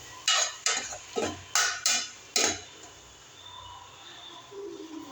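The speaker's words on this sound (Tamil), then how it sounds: "சேர்த்துட்டு நல்லா கிண்டி விடணும்." A spoon scrapes and knocks against a cooking pan while ginger garlic paste is stirred, six sharp metallic strokes in quick succession followed by a quiet sizzle.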